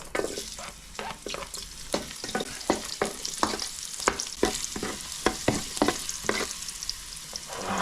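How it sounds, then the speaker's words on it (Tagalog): Garlic sizzling in hot oil in a pan before onion and tilapia go in, with a steady frying hiss broken by repeated scraping and stirring strokes, close up and without talk. "At ngayon po ay magigisa na po tayo."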